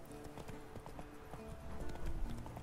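Steady clip-clop of horse hooves at an even walking rhythm in The Witcher III: Wild Hunt, with a low rumble underneath and no talking.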